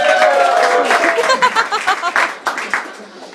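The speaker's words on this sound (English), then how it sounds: "Okay, round of applause." Comedy club audience applauding, a short burst of loud clapping near the stage that thins into scattered claps and a few chuckles before fading out.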